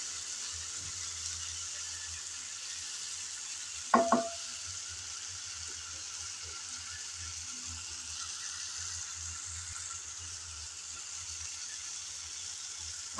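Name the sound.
tomatoes frying in a pan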